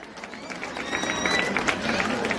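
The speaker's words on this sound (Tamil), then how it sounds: "கைத்தட்டுமாறு கேட்டுக்கொள்கிறேன்" Applause from an audience at a school function in Avaniyapuram, Madurai, a soft patter of clapping that builds slightly under crowd murmur and chatter.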